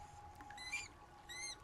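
Faint, soft pattering of rats on stone and light scratchy squeaks sound in a quiet space, scattered in short bursts.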